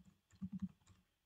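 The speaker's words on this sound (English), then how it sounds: "So let me type here" Typing on a computer keyboard, a short burst of soft close key clicks, a few quick taps bunched together in a quiet room.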